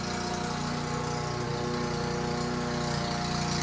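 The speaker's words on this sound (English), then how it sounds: "Apparently it's time to mow the lawn." A lawn mower runs outside a window, a steady, droning engine hum that holds at an even level throughout with no pauses and no voices.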